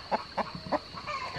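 A rooster on a Missouri homestead gives three or four short, close clucks in quick succession, each clearly separated, over a quiet steady background hum.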